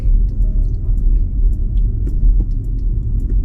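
A new BMW 5 Series Touring i5 electric estate car driving, with a steady low road rumble and tyre noise throughout, no voices.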